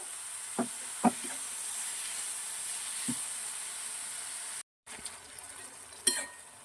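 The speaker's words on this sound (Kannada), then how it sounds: "ನೋಡಿ, ಎಣ್ಣೆಯಲ್ಲಿ ಫ್ರೈ ಆಗ್ತಿದೆ ಟೊಮೆಟೊ." Tomato pieces fry in oil in a pan for a home-style tomato gojju, a soft steady sizzle with a few sharp stirring knocks and clinks, a brief dropout midway.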